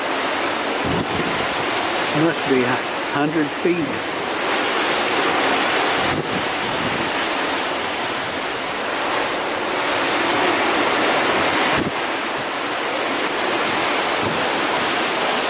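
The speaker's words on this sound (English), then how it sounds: "Water is splashing." Ocean waves surging and splashing against towering cliffs near Cape Horn, a continuous loud roar with heavy wind buffeting the microphone and someone speaking briefly over it.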